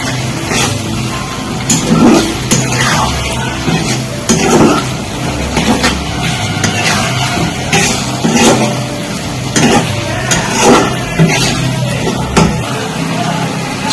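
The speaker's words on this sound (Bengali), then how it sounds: "আবার একটু নাড়াচাড়া করে নেবো" A spoon stirs pointed gourd (potol) puree in a pan, giving repeated scraping strokes at a roughly regular pace over a low, continuous sizzle, close and fairly loud with no talking.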